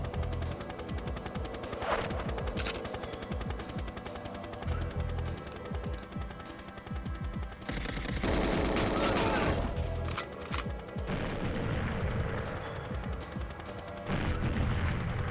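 Gunfire in GoldenEye 007 shooting at an object to blow it up: rapid repeated shots in bursts, then a louder, denser blast of crashing noise in the middle, with more firing after.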